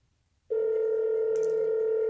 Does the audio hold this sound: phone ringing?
yes